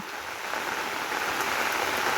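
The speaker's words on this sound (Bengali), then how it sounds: "অনেক বৃষ্টি হইতেছে" Heavy rain pours onto a rooftop, a dense, even hiss of countless drops, close and unbroken, with no voices.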